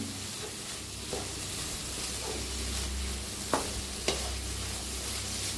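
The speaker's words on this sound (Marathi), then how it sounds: "टाकायची कोथंबीर त्याला छान मिक्स करूया" Fresh coriander being stirred into bun bhaji in a pan, a soft steady sizzle under occasional sharp scrapes and clinks of the spatula against the pan, close up with no talking.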